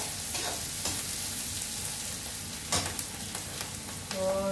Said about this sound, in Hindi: मेरा ये भुन रहा है प्याज